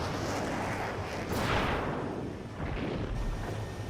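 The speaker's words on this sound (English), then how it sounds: "Did you see that explosion?" In the video game Ace Combat 7, a supply ship explodes with a broad, rumbling roar that swells around the middle and trails off into a sustained low wash of noise.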